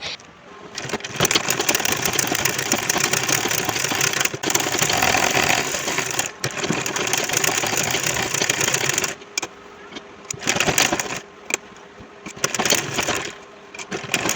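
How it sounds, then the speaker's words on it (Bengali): A sewing machine stitches a pillow cover in loud, close bursts of rapid mechanical clatter, stopping and starting several times with short pauses between runs. "এই যে লম্বার অংশটা আমি আপনাদেরকে সেলাই করে দেখিয়ে দিচ্ছি"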